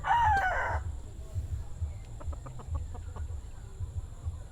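A rooster crows briefly at the start, then softer chicken clucks and pecking sounds follow over a low rumbling background.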